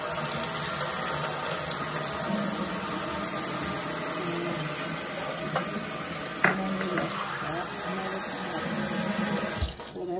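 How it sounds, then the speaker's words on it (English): Two and a half cups of water poured into a cooking pot, a continuous steady splashing and rushing stream held at an even level close by for several seconds, with a small clatter near the end. "I'm gonna pour it in this pot right now."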